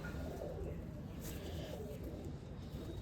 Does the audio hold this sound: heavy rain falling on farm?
no